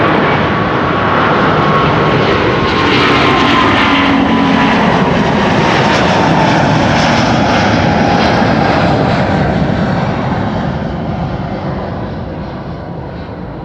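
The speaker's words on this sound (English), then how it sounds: "third Delta A350 of the show, on its way to Atlanta, Georgia" Delta Air Lines Airbus A350 taking off from Schiphol's Kaagbaan runway 24, bound for Atlanta: a loud, broad jet engine roar that builds and holds steady, then slowly fades toward the end.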